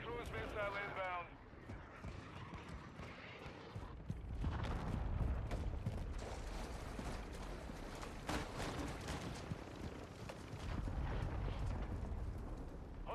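Cruise missile strikes in Call of Duty Modern Warfare 2 multiplayer rumble as heavy, continuous low booms and rolling blasts, with game voice callouts over the din.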